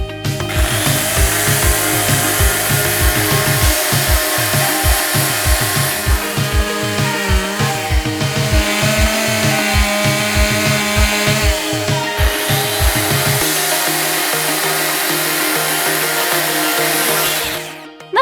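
A loud chainsaw roars steadily while cutting a tree stump, its engine pulsing rhythmically, then drops to idle before cutting out at the end.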